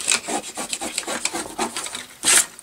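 Glued paper pieces of a gatefold tri-shutter mini album are burnished down with a series of short, close rubbing strokes, uneven in rhythm, ending with one louder scrape and no talking.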